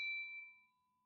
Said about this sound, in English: hit the bell icon so that you know when live we go